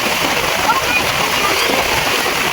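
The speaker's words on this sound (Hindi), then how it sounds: "इससे बारिश का अंदाजा लग जाएगा कितनी बारिश हो रही" Heavy rain pours down outdoors at a house, with water running. It makes a loud, dense, unbroken hiss and roar that fills the whole stretch.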